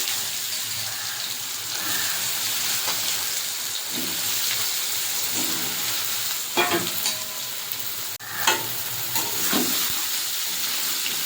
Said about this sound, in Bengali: বেগুনটা আগে একটু ভেজে নেবো লাল লাল করে।